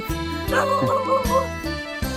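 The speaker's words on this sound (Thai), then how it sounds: "หมามันจะเห่าผมอยู่ตลอด" A dog barks several times in quick succession during an evening outdoors beside shrimp ponds in rural Nakhon Pathom, Thailand, with a faint jingle and some voice in the background.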